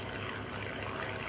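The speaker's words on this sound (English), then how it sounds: "There goes the first of our airplanes, the Fairchild PT-23." A 1942 Fairchild PT-23 primary trainer with a round radial engine and fixed-pitch propeller drones steadily overhead at a World War II airshow, a continuous broadband engine roar at moderate, distant level with no talk.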